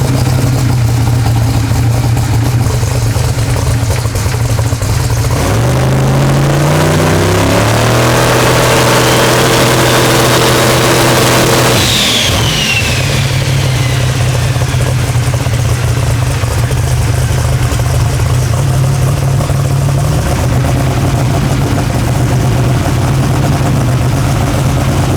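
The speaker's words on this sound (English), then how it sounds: "there it stayed on the rev limiter" A 4200hp SMX wagon engine revs up hard and holds on the rev limiter, a loud, continuous droning roar with a sweeping rise in pitch, steady bouncing at the limit, then dropping back, with no voices.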